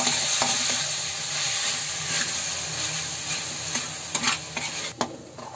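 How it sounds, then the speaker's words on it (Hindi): Milk cream is stirred into vermicelli in a hot pan for apple seviyan kheer, with a steady sizzle and hiss and a few clinking scrapes of the spoon near the end. "अब हम इसमें दो बड़े चम्मच दूध की मलाई जो है ना वो मैं रखी हूँ उसको हम डाल देंगे इसी में और इसको हम चला लेंगे"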